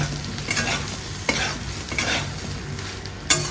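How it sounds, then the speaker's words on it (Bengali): Turmeric and roasted cumin powder fry and sizzle in a pan at close range, with a spoon scraping and stirring through them in steady strokes and a sharp clink near the end. "ভেজে নিই"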